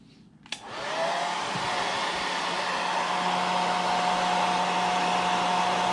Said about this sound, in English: I'm going to also take my hair dryer,